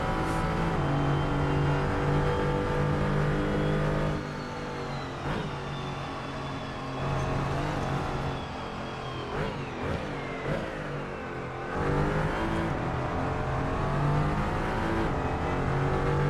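A race car engine in the Assetto Corsa racing game drives laps, holding a loud, continuous drone that rises and falls as it accelerates and shifts through gears, with brief dips when it lifts off, alone throughout.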